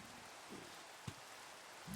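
Steady rain hiss in the video game Minecraft, a constant even wash of falling drops with a few soft thumps, moderately faint and with no talk.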